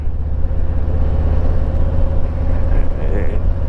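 A Harley-Davidson motorcycle rides on a rainy Sunday morning, its engine a loud, steady low rumble up close, overlaid with wind and road noise.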